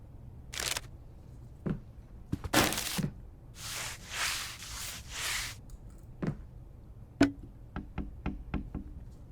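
Knocking in the horror video game Late Night Mop: several sharp, separate knocks and thumps spread unevenly through the clip, with a quiet room tone between them.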